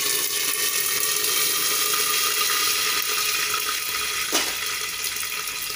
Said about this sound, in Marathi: आता मी कढीपत्ता घालते.